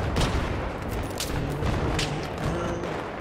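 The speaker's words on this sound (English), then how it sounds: "Oh, this is bad shooting for me." Battlefield 3 video game combat: dense overlapping gunfire and distant booms, a continuous loud fusillade of rapid shots with occasional heavier thumps.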